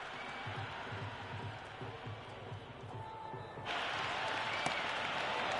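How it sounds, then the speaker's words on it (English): Simulated stadium crowd applause and murmur during a cricket match at Gaddafi Stadium in Cricket 26, a steady wash of clapping that swells louder partway through, with a commentator's voice faintly underneath. "It's evident and ever so audible that the crowd is at near bursting point at today's play."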